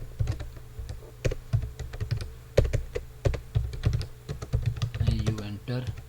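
Rapid, uneven key clicks from a computer keyboard as C code is typed, close and clear with frequent bursts and brief pauses, and a voice speaking briefly near the end.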